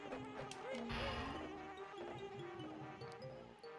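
Bees buzzing in the Banjo-Kazooie video game: a soft, wavering insect drone that swells and fades over layered tonal game music, fairly faint and continuous.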